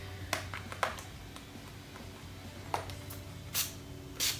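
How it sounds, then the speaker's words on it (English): Two short bursts of fine setting spray mist hiss close by near the end, preceded by a few faint taps and clicks in a quiet room. "I'm gonna spray my face right now using this Urban Decay All Nighter Setting Spray"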